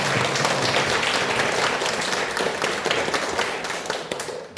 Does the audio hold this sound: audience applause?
yes